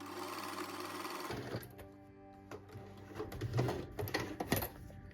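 Sewing machine fitted with a special leather needle test-stitching leather for a handmade bag, starting abruptly after a short pause into a close, loud, rapid mechanical stitching whir with rhythmic clatter that speeds up and pulses.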